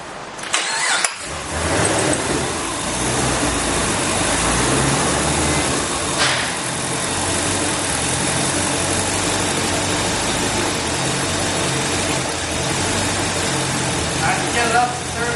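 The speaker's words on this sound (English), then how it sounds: "I'm going to start the car, turn the fan on, activate the dyno" A 2010 Chevy Camaro on a chassis dyno cranks briefly and catches, then settles into a steady, loud idle with a dyno fan roaring alongside, the engine note constant and close.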